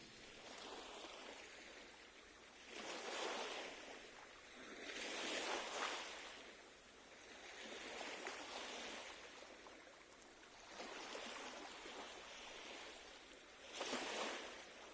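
Ocean waves from the video game Second Story R roll in and wash out in slow, broad swells, soft and steady with no voices.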